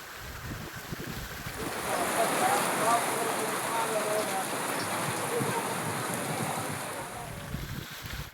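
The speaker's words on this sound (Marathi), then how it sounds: "वादळी वाऱ्यासह अवकाळी पावसाने जोरदार हजेरी लावली" Heavy unseasonal rain roars steadily with gusting storm wind in south Ratnagiri, a broad rushing wash that swells and holds throughout, loud and close.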